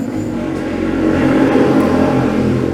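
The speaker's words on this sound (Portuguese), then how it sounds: "deixa eu passar essa moto" A motorcycle passes close by on a street, its engine droning and swelling louder midway as it goes past, with a steady road rumble underneath.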